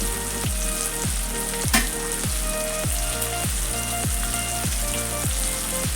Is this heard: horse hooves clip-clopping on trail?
no